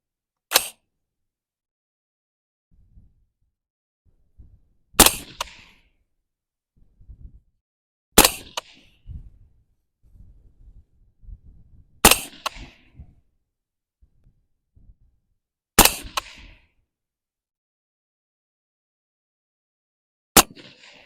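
Rifle shots from an AR firing 5.56 ammunition at a 100-yard target, six sharp reports spaced a few seconds apart with quiet low handling noise in between.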